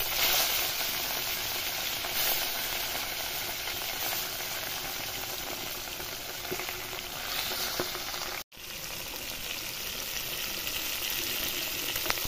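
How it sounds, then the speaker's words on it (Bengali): Pieces of rohu fish, salted and coated in turmeric, fry in hot oil with a steady, dense crackling sizzle that runs unbroken, close and moderately loud, with one brief dropout near the end. "মাছটা এখন ভাজবো, কড়া কড়া করে ভাজবো, লাল লাল করে"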